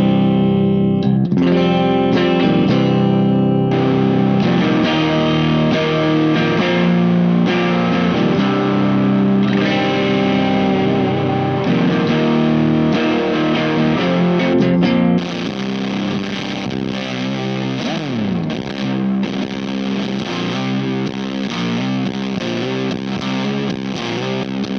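Electric guitar in C standard tuning played through a Nightwolf fuzz pedal, a dense, distorted sustained tone with strummed chords throughout, loud and alone with no talk.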